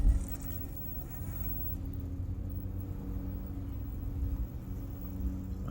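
Furitek brushless RC car with a Python Pro ESC and Cedar motor crawling up a rock, a steady low whine and hum of the motor with faint gear buzz, close and continuous throughout.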